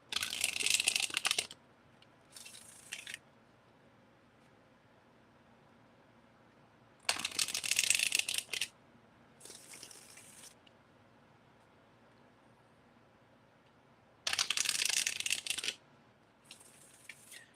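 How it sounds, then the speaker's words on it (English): Tarot cards are shuffled in short riffling bursts, three main rounds each followed by a smaller flick, with quiet pauses between. "I'm going to do some shuffling because I want to make sure the cards are nice and"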